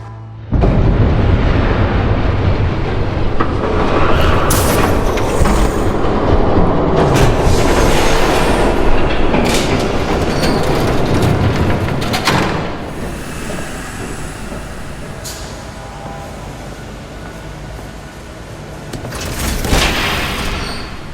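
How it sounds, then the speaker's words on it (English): A train rumbles past in the Batman Telltale video game, a loud, sustained roar of rolling wagons with screeching wheel squeals and clattering bursts that swell and fade over about twenty seconds. "There's a train coming."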